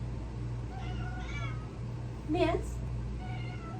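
A house cat meows several times indoors, drawn-out wavering calls with one louder, higher meow midway, over a low steady hum while someone speaks briefly.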